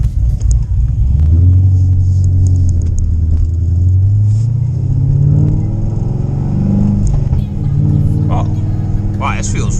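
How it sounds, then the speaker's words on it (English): A Corvette Grand Sport with an LS3 V8 drones steadily through its loud exhaust while driving, a close, heavy low rumble that rises and falls in pitch with throttle, with some light cabin rattles. "the exhaust is pretty loud. It drones a lot too."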